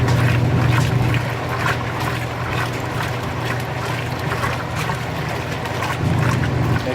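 Water sloshes and splashes inside a 2017 Speed Queen washing machine washing a load of jeans. The churning wash is continuous and close, with a low motor hum beneath and no voices.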